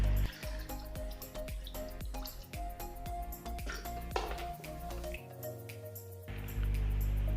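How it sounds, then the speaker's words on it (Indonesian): Water poured into the irrigation section of a prototype automatic fish pond gate, heard as a steady run of close drips and splashes that shifts into a fuller, continuous flow near the end. "bagian B atau irigasi akan saya masukkan air"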